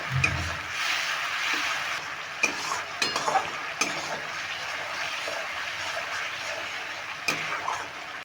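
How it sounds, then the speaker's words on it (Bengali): Spice paste for a banana-flower kofta curry is fried and stirred with splashes of water in a pan, giving a steady close sizzle with scraping spoon strokes and a few sharper clinks, no talking. "একটু জল দিয়ে জল দিয়ে এই কষিয়ে নেব"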